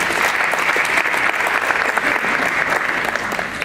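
An audience at the 2018 Hamtramck MLK breakfast keeps clapping in a loud, continuous burst of applause, with the dense patter of many hands staying steady from start to finish.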